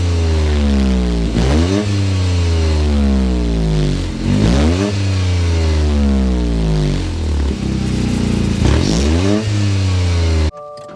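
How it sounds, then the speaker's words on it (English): A Toyota GR Corolla Circuit Edition engine revs hard several times from inside the car, its exhaust note climbing and falling in repeated loud sweeps before cutting off abruptly near the end. "so you can hear that exhaust note"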